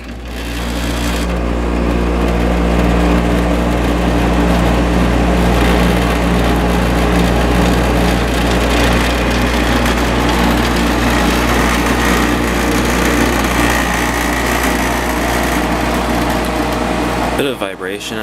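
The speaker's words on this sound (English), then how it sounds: "I'll start the compressor up real quick just so you can hear it. It's got a Copeland reciprocating compressor." The Copeland reciprocating compressor of a Coronado 5,000 BTU window air conditioner runs, a loud continuous low hum and drone with a mechanical buzz that stays steady throughout before cutting off at the end.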